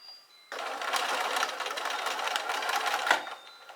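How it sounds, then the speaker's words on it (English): A sewing machine stitches fabric for a pair of bloomers, starting abruptly and running as a fast, steady whirring buzz of rapid needle strokes, close and loud, then slowing at the end. "I'm just gonna stitch that"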